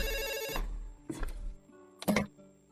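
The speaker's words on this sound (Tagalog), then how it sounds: "Oh, nagri-ring na ang telepono nyo." A telephone bell rings in short repeated bursts separated by brief pauses, fairly clear and close, with no one speaking over it.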